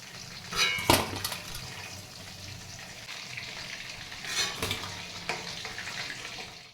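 Lentil vadas for dahi vada frying in hot oil, a soft steady sizzle with a few sharp clinks of a spoon or ladle against the pan as they are turned and lifted out.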